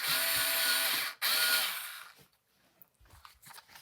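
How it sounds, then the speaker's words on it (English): A power drill whirs loudly and steadily into the edge of a Fox Float DPS shock part, cuts out briefly, resumes, then spins down into quiet scraping and handling noises. "we're going to drill a hole from the side on the edge"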